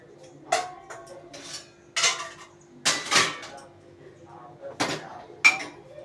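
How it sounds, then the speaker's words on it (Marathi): Breakfast and tea dishes are put away in a home kitchen with several separate clanks of metal pots, pans and cutlery, spaced out at a moderate level, near and distinct. "सकाळची चहाची नाश्त्याची भांडी राहिली होती ती वा ठेवून येत आहे मी"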